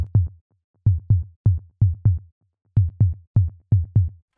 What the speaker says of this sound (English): Then we have Pluck Tom, which is literally a tom sound